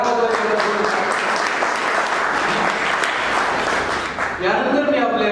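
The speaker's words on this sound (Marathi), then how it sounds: "सुरेश प्रभूंसाठी आपण टाळ्या वाजवायच्या." A hall audience at a Saraswat book launch ceremony claps for Suresh Prabhu in a sustained, dense round of applause lasting several seconds, briefly dipping near the end before swelling again.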